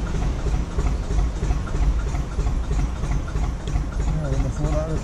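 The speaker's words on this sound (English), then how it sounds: "Just ignore the road noise." Road traffic beside a canal near a railway station on a narrowboat trip: a constant low rumble of passing engines with a dense, unbroken wash of noise.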